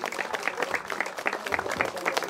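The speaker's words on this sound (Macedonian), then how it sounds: "Сакаме уште еднаш со еден аплауз да ја поздравиме Менче Велјановска и нејзините колешки" Audience applause greets Menche Veljanovska and her colleagues at an eco-cultural village festival in Belica, with steady, moderately distant clapping sustained throughout and no speech.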